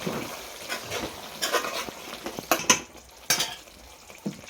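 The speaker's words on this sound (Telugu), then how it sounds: "కలుపుతున్నా" Chicken curry with coriander and mint being stirred in a pan: intermittent scraping and clinks of a spoon against metal over a soft sizzle, close by, with a few sharper knocks.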